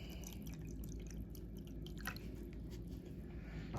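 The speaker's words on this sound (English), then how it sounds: "So I'm going to add water in there." Water poured from close by into a container of fig cuttings being propagated, a steady, fairly loud wash of running liquid with faint drips, and no voices.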